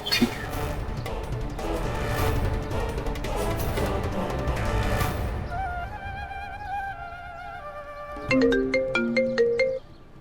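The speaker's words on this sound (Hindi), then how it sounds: "ललिता जी को फोन कीजिए ना, कहाँ रह गई वो?" An outgoing phone call plays its ringtone during a Hindi TV family drama. A noisy stretch comes first, then a bright, loud electronic melody of short repeated tones.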